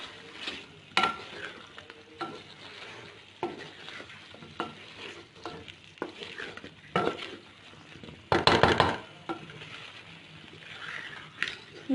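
Ginger garlic paste frying in a chicken karahi, stirred with a spoon scraping along the pan bottom, giving a steady sizzle with intermittent scrapes and a louder burst of stirring near the end, no talking.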